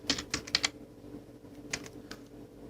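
Computer keyboard keys tapped while numbers go into a spreadsheet: a quick cluster of clicks, a pause, then a few more keystrokes, close and fairly quiet.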